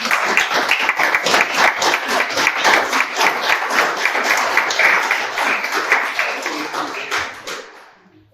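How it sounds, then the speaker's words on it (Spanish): An audience claps loudly and steadily in a welcome for a guest at an evangelism workshop session, a dense, close ovation holding for several seconds before it fades out. "Vamos a darle un fuerte aplauso de bienvenida."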